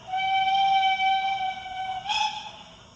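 An LGB 2080 D model train with a Zimo sound decoder sounds one sustained, steady multi-tone whistle blast, briefly swelling louder near the end before trailing off.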